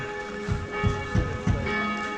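Church bells ring out at the Christmas market in Einsiedeln, Switzerland, with repeated heavy strokes about every third of a second over a sustained, humming wash of overlapping tones, loud and near.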